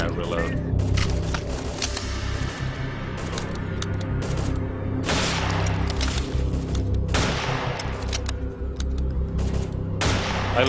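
Rapid gunfire rings out as zombies are shot in the co-op zombie shooter BrainBread 2, with repeated loud bursts of shots over a constant game background and voices talking throughout.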